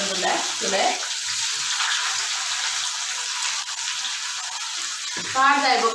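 Food frying in a pan at a temple festival gives a steady, dense sizzle that fills the whole clip, with brief bursts of nearby voices at the start and end.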